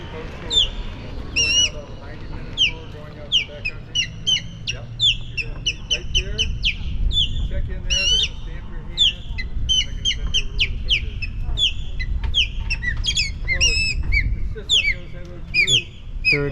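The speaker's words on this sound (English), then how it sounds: "Third osprey." Outdoors in Everglades National Park, an osprey gives repeated sharp, high chirping calls in quick bursts, loud and fairly close, over a steady low background rumble with faint voices.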